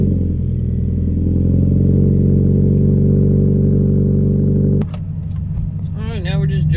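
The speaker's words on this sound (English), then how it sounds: "I'll do a startup for you because it sounds pretty good" A 2013 Subaru BRZ engine runs loud and steady close by, a dense low drone that cuts off abruptly near the end, followed by a voice speaking.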